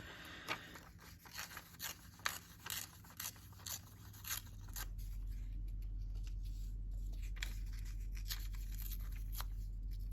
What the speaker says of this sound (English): It tears so beautifully because this paper's so old.